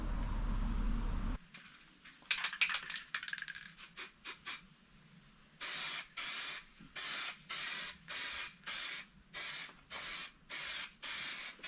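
A spray gun applies paint to a car's front wing during a respray. A few short bursts come first, then a regular series of about a dozen close, loud hissing sprays, each lasting under a second with brief pauses between.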